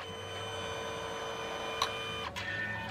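A Canon Selphy 1300 compact photo printer running steadily, a constant whirring drone with faint tones as the paper feeds through, broken by two brief clicks near the end; close, quiet and without any speech.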